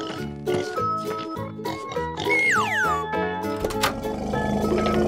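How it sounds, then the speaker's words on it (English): A pig oinks and grunts in repeated short bursts mixed with squealing calls, close and fairly loud, with a busier noisy stretch toward the end and no talking. "pig,"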